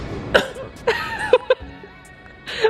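A few sharp hiccups pop out at irregular intervals, close and fairly quiet, with short voiced sounds between them.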